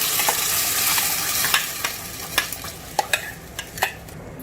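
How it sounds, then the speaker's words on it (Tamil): Ground masala paste sautéing in hot oil in a pan for soya mutter pasanda, a steady close sizzle broken by a series of sharp scraping stirs, with no talking. "அடி பிடிக்காம நல்லா வதக்கிட்டே இருக்கணும்."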